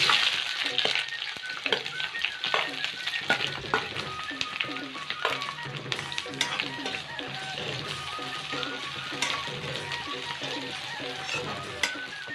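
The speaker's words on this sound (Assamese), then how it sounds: "পিঁয়াজখিনি মই ৰঙচুৱাকৈ ভাজি লৈছোঁ।" Chopped onions frying in hot oil with three bay leaves in a pan for duck curry with ash gourd: a continuous close sizzle with frequent spatula stirs and scrapes, a voice speaking faintly in places.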